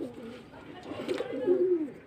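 Pet pigeons in a clean breeding setup coo in low, rolling, soft calls that repeat and swell across the moment, close by, over a faint background hum.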